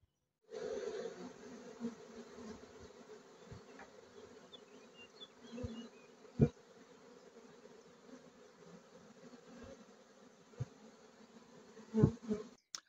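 A honeybee swarm being taken in by hand hums steadily and evenly for the whole stretch, a dense close buzz with a few brief thumps and no speech.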